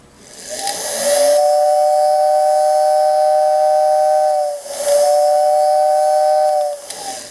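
A loud, steady steam-style whistle from a Lionel model train blows twice in long sustained blasts, a breathy hiss beneath its bright tones, with a short pause between them.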